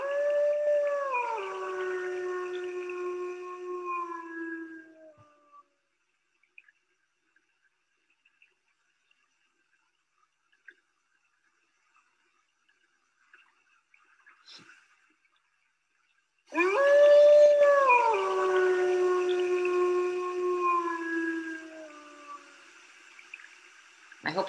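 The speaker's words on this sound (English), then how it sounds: "It's something to hear a wolf howl in the wild when you're in this kind of country." A wild wolf in Arctic country gives two long, mournful howls, each rising then sliding down in pitch, separated by about ten seconds of near silence; clear and fairly close.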